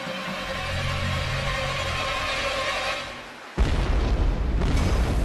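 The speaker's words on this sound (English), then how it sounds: "The bomb's explosion splits the side of one of the tanks" A low rumbling drone runs for a few seconds, then a sudden deep bomb boom bursts in, splitting an LNG tanker's tank, and leaves a loud, roaring blast that continues.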